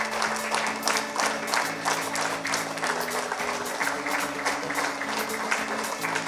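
An audience claps and cheers to welcome the speaker at a spiritual class in T-Nagar, Chennai, with a continuous, moderately loud wash of applause over steady background music.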